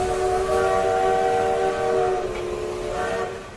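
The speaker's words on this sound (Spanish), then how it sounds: "Tuvieron que añadir vagones extra en los trenes para trasladar a toda la gente que quería ver la nueva maravilla de Edison" A passenger train in use around 1879, carrying crowds, rumbles steadily with sustained horn-like tonal whistling over broadband rolling noise, loud and close, easing slightly toward the end.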